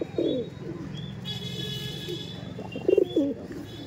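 Pigeons at a loft being sold coo in low, throaty bursts, one near the start and a louder pair near the end, over a steady background hum.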